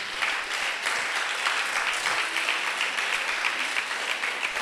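Steady applause from a church congregation celebrating the new year, a dense, even wash of clapping held at constant loudness for the whole stretch, with no voices over it.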